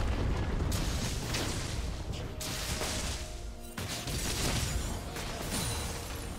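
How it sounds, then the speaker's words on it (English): A destroyed turret in League of Legends sets off a loud, sustained explosive roar with crashing bursts that nearly fill the clip. A second heavy blast hits partway through. "Red team's turret has been destroyed."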